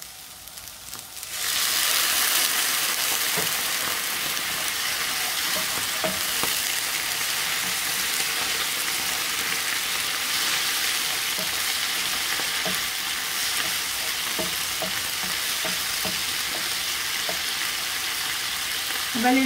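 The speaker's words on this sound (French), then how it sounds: "Et je vais les déglacer avec un tout petit peu de vin blanc pour leur donner une petite touche d'acidité." Onions sizzle loudly in a hot pan after being deglazed with white wine, a dense, steady frying hiss that starts abruptly and continues with occasional crackles and stirring sounds.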